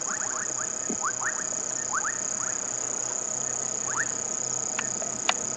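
Bubbling kassina frogs call in short, rising bubbling notes in scattered bursts over a constant high insect drone, faint and somewhat distant, on an evening safari drive at Djuma Game Reserve.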